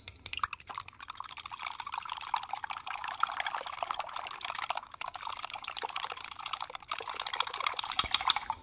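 Eggs, sugar and half and half being whisked together in a bowl, a steady rapid clatter of beating and sloshing liquid that runs continuously without talk.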